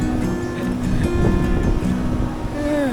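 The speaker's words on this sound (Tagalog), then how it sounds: "Napakalakas ng hangin dito." Strong wind on a hilltop in Batangas buffets the microphone with steady low rumbling gusts, continuous and close, with a faint tonal hum from a nearby motorbike.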